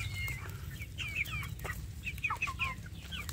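Free-range village chicks (anak ayam kampung) gathered together, chirping and peeping in quick, high repeated calls over a low background hum, fairly faint and close.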